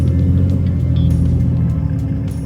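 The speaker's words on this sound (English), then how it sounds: "we're down a cylinder" A rare imported car idles rough and uneven while running down a cylinder, its steady low rumble loud and close throughout with no talking.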